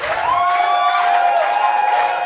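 An audience at an award ceremony breaks into steady applause and cheering, a dense, loud wash of clapping lasting a couple of seconds with a bright tone sounding through it.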